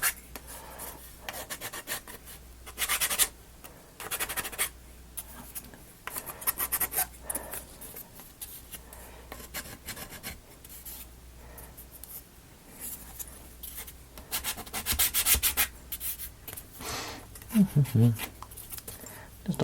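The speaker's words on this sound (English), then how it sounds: "I don't remember any of the other ones being this difficult to sand." Sanding plastic parts of a ROKR Marble Squad model kit: irregular dry rasping and rubbing strokes, close and fairly quiet, in short bursts with pauses between.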